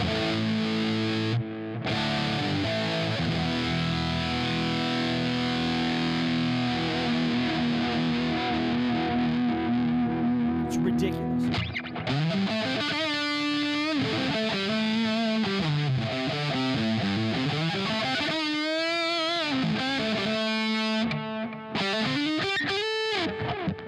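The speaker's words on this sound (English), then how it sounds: "That is the Benson Deep Sea Diver Fuzz Echo." Electric guitar played through a Benson Deep Sea Diver fuzz and echo pedal: thick distorted chords give way to swooping, pitch-bending lead lines with trailing repeats, loud and continuous, with a brief spoken remark.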